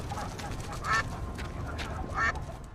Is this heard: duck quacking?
yes